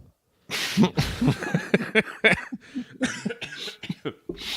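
A fit of repeated coughing from someone with a cold, up close, a rapid run of harsh bursts with short gaps, no talking.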